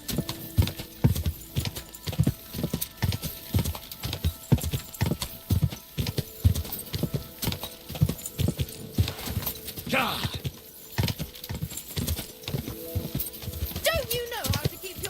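Horse hooves clip-clopping in Kingdom Come: Deliverance II, a quick steady rhythm of close hoofbeats throughout, with a brief voice and a whinny-like cry partway through.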